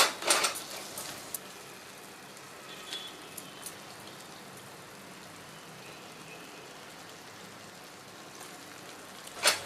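Prawns sautéing in tomato masala in a pan for prawn biryani, giving a steady soft sizzle with a few sharp utensil clatters near the start and end, no talk.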